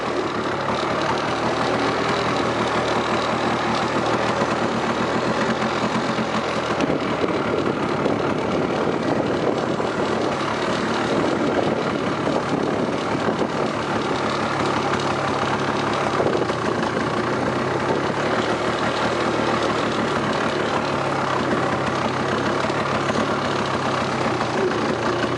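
A rebuilt vehicle engine running steadily in high range, a loud continuous mid-to-low rumble with a slight knock, close and unbroken for the whole stretch.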